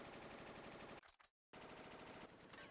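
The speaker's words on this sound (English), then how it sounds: "Gunfire? Sounds pretty bad." Rapid bursts of automatic gunfire in Final Fantasy VIII rattle loudly, cut off by a brief silence, then the dense firing resumes without pause.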